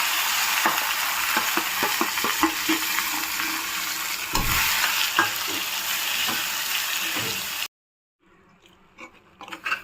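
Dried red chillies and curry leaves sputter and crackle loudly in hot oil as a tempering for a bottle gourd chutney, close and continuous with stirring scrapes, before dropping away to near silence and a few faint taps.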